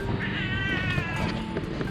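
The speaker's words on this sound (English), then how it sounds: "cat wants to say hello" A cat meows loudly and close by in one long, drawn-out, talkative call with no talking over it.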